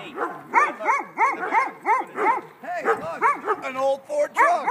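Several dogs bark in a rapid, steady run of loud, close yaps and woofs, with a few whiny yips near the end, while voices talk over them.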